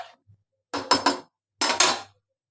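A pot of sour lentil dal with salt and turmeric being stirred, heard as two close bursts of three scraping, knocking strokes of a spoon against the pot, with quiet pauses between and no talk.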